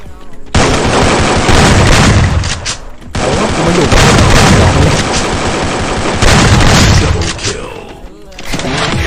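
Loud, close gunfire in the battle-royale game Free Fire, heavy booming automatic bursts in long sustained volleys broken by brief gaps, with excited talk mixed under the shooting.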